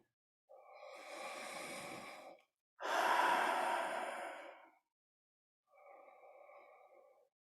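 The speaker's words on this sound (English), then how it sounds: "Breathe that feeling in." Slow, deep breaths come in and out as two long airy swells, one after another. A shorter, fainter breath follows after a pause, and the room is otherwise quiet.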